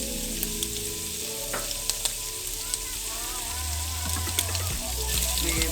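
Bacon frying in a pan with chili, a steady crackling sizzle throughout with a few small pops and faint stirring, fairly close, with a low background hum and no one talking.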